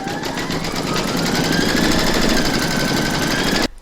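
An embroidery machine stitches an in-the-hoop stacked Christmas tree design, a loud, dense, steady mechanical hammering that runs continuously and close up before cutting off abruptly at the end.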